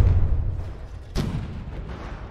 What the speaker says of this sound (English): another had a large explosion on the Bergstutzen